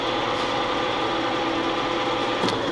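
Brown & Sharpe universal horizontal milling machine running at a higher spindle speed, a steady close mechanical hum and whir with a faint rattle, holding an even level throughout.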